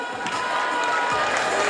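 A crowd cheers and claps steadily at a university integration day diploma ceremony, a dense wash of applause with shouts mixed in, filling the space without pause.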